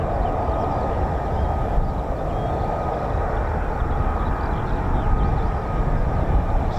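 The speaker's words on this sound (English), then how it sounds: "It's the sound of the Pratt & Whitney F100" A Pratt & Whitney engine on an F-35B stealth fighter at RAF Marham roars in a steady, loud, dense rumble with no break and no voices.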